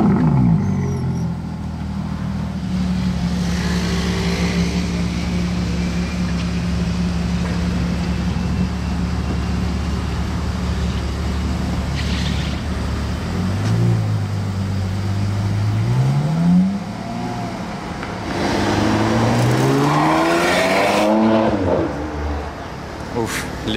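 A Ferrari 812 GTS V12 with exhaust valves open idles and blips nearby, its engine note rising and falling in a few revs, with a louder surge of revving near the end.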